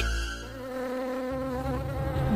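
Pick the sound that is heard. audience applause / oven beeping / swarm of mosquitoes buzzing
swarm of mosquitoes buzzing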